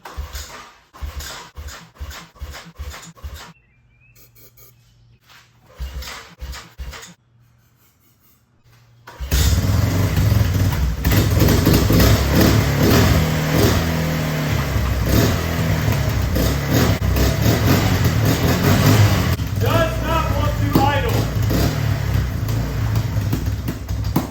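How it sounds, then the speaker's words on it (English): A 2001 Yamaha BearTracker 250 ATV gets several short, choppy pull-start attempts, then catches and runs loudly and continuously, revving near and close. "I'm still gonna put fuel in it and try to pull start it and see if the engine will actually start up"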